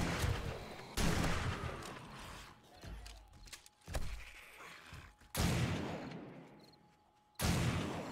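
Gunfire during horde night in the video game 7 Days To Die, with loud, repeated bursts of shots and clatter separated by quieter gaps where mechanical noise continues underneath.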